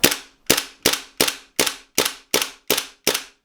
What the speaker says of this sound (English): This gun is empty, so we'll test the blowback action.